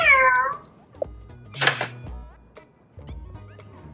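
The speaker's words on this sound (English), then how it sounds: "I will make Frankie stand up, do a meow" A Lego Boost robot cat plays a short electronic meow at the start, followed by clicks and whirring servo motor noises as the robot moves and sits down.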